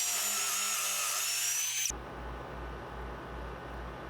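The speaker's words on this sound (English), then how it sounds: "as I'm trying to install these screws, the wood keeps moving around on me" A power drill whines as it drives pocket screws into wooden glider parts, a steady high buzz that cuts off partway, followed by a low rumbling handling noise.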